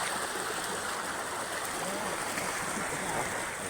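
Water rushes and gurgles steadily, a close, continuous flowing sound without pauses, like water pouring through a channel into a pond.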